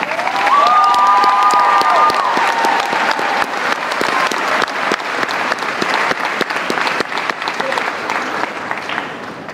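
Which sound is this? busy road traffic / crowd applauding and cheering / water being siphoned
crowd applauding and cheering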